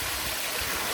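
A small waterfall pours in a continuous loud rushing hiss, steady and close, with no voices.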